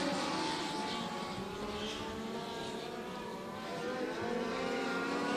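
Dirt-track race cars roar continuously through the turns and down the back straightaway during a heat race at Maquoketa Speedway, with steady, loud engine drone and no break across the stretch.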